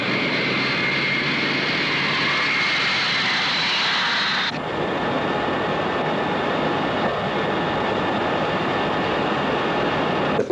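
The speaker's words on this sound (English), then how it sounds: "The human fly made his debut on top of this DC-8 jet at a California air show last June." Jet engines on a DC-8 airliner at a California air show roar continuously and loudly, a broad steady rush with a whining tone that shifts partway through.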